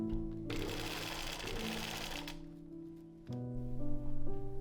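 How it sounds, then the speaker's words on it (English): A sewing machine stitches gathered layers of an 1860s gown skirt in one sustained run of nearly two seconds, its busy whir rising over soft background music. "and then sewed everything in place"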